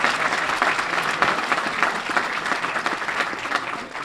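A room full of people gives a sustained burst of applause after a mayor asks for a clap, dense and even for about four seconds before tapering at the end.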